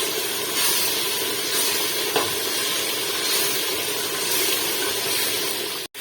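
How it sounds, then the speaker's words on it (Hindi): Potatoes and cauliflower frying in masala for a dhaba-style curry, a loud, continuous close hiss and sizzle with a faint knock midway, cutting off abruptly at the end, with no talking. "अब हम इनको थोड़ी सी देर और भी भूनेंगे, ताकि मसाला बीच में अच्छे से ऐड हो जाए"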